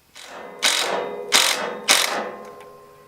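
A ratcheting electrician's screwdriver drives a screw into a pilot hole while wiring an old trailer. Three sharp, close clicking bursts follow a softer opening turn, each burst fading before the next.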